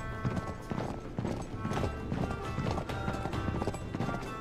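A horse gallops in the video game Uncharted 3, with a steady rapid clip-clop of hooves close up and a whinny, continuous throughout with no talk.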